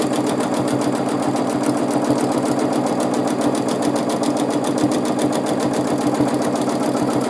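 A sewing machine runs during free-motion quilting of wavy lines and swirls, a fast, steady needle chatter of rapid even stitches, loud and close, continuing without pause.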